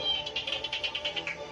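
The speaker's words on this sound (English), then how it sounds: "That sounds like a whale." A whale call picked up aboard a submarine, a rapid series of about a dozen pulsing, squeaky clicks in a steady rhythm over low hum, faint and distant.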